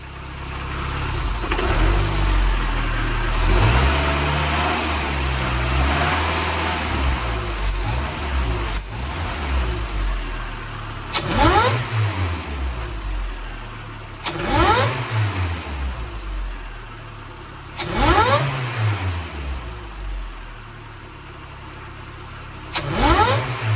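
A car engine fitted with a bypass valve fires up and is revved repeatedly, each blip rising and falling in sharp surges over a steady idle, loud and close with no talk.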